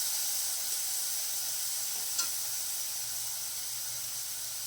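Fish curry with bitter gourd, potato and eggplant bubbling in a pan, a soft continuous sizzle and simmer hiss with one small clink partway through.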